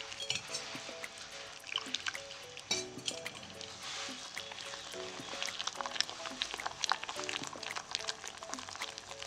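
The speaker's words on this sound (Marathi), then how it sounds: "हाताने थोडं चांगलं छान असं फेटून घ्यायचं ते." Pakoda batter of gram flour and water being beaten by hand in a bowl, giving soft, wet squishing and dripping sounds that sit under a steady tonal background with no talking.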